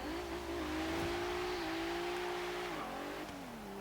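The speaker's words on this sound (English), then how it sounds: "I still think this V6 sounds pretty decent, even with those twin turbochargers sucking away at the air." A 2016 Cadillac ATS-V with a twin-turbo V6 accelerates hard in Forza Horizon 3, the engine note climbing steadily and loud and close, dipping briefly near the end before rising again, with no talk over it.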